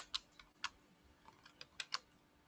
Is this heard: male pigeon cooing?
no